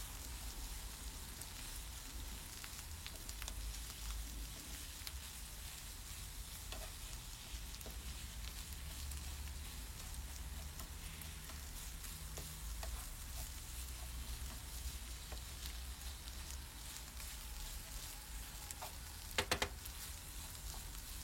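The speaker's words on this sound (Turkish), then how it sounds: "Hepsini beraber güzelce karıştıralım." Kibbeh filling being stirred in a pan, a steady sizzling, crackling texture that runs on without pause, close and fairly quiet, with a brief sharper scrape near the end and no voices.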